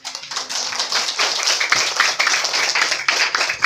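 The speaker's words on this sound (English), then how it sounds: "I think they deserve a warm applause" Warm applause for pupils at a school debate event, a dense, continuous clapping of a modest audience lasting throughout, with no talk over it.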